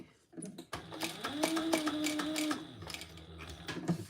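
A sewing machine top-stitches around a fabric crossbody bag, a close, quiet whirring run of stitching of a couple of seconds, bracketed by small clicks and handling noises.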